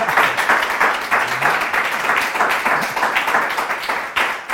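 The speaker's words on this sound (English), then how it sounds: "give them a big round of applause" An audience at a vibraphone and piano jazz duo concert gives a round of applause, a dense, steady burst of many hands clapping at a moderate distance, with no talk over it.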